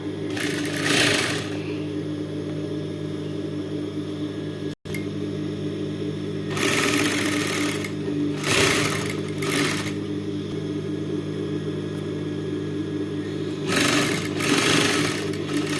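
A sewing machine hums steadily through a long stitching run on folded fabric, with a brief cut near the middle and several louder bursts as the needle speeds up, close and continuous.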